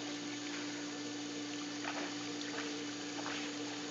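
A steady hiss of a water jet spraying while a Rottweiler bites at it, with occasional splashy bursts breaking through the constant close rush of water.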